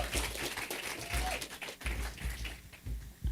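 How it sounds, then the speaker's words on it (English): Audience clapping in a room at an AI summit at an Indian consulate, uneven and fairly sparse, with strong low thumps and some background noise. "Little louder clapping would be good."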